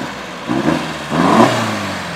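A car engine at a car meet revs in two short, rising blips, close and fairly loud over a low background rumble.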